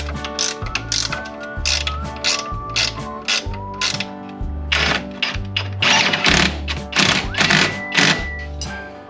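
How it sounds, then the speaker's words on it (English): A ratchet wrench clicks in quick rhythmic bursts, close and loud, as hardware is tightened on a RZR Pro XP side-by-side during carrier bearing replacement, with brief metallic thunks between strokes. "all we got to do is just get the hardware back in and tighten everything down"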